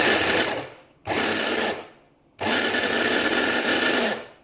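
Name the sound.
mini food processor chopper running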